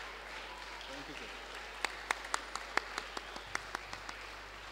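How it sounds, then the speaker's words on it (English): A few scattered, sharp handclaps ring out in a large hall after a convocation lecture, thin and separate rather than a full ovation, over a low background hum. "Let's keep clapping for him."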